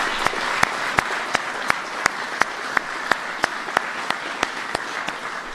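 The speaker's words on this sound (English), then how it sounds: "Give them all a big round of applause." An audience gives a round of applause to NASCAR Sprint Cup champion Kyle Busch's Joe Gibbs Racing team, a dense, sustained wash of many hands clapping at an even level throughout, punctuated by regular sharp camera-shutter clicks; no one speaks.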